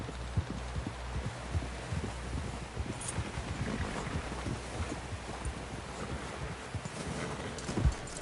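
Horse hooves clip-clop steadily in Red Dead Redemption 2 as a horse carries a rider back toward camp, dull rhythmic thuds low and close over a constant hum, with a heavier knock near the end.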